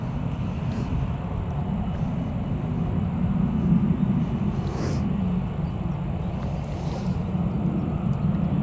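Steady, low distant roar of an American Airlines airliner flying over Newcastle Airport, broad and unbroken, mixed with wind buffeting the microphone.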